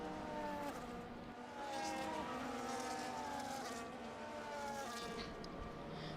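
Formula 1 cars in an online racing video game championship at the Dutch Grand Prix roar steadily behind a safety car, overlapping engine notes rising and falling in pitch, fairly faint and continuous without talk.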